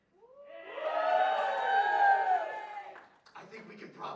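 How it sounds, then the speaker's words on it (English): A live audience at a comedy show cheers and hollers loudly for a stage character, a swelling mass of voices sustained for a few seconds before breaking off into scattered noise. "Whenever this buffoon steps on stage, you need to cheer as loud as you can."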